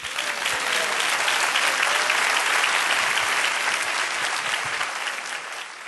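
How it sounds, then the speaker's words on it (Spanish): A church congregation claps steadily in praise of the Lord, a dense, loud, even wash of applause lasting throughout with no voices standing out. "Dale un aplauso al Señor"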